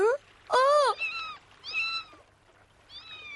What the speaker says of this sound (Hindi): बेचारी छोटी सी बिल्ली।